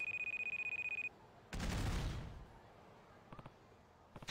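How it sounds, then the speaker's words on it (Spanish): Dynamite explosion in the game Judgment, one sudden loud blast with a rumbling decay after an electronic alarm beeping, followed by faint scattered clicks. "¡Ha sido una explosión!"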